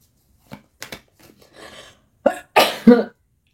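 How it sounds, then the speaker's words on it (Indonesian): Several harsh coughs, close and loud, starting with a few short bursts and building to heavier hacking coughs near the end. "masih batuk guys"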